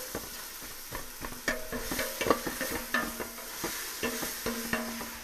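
Salted onions caramelise in a pan for a Welsh cawl, with a soft sizzle under repeated sharp utensil taps and scrapes as they are stirred. The sound is close and fairly quiet, and nobody speaks.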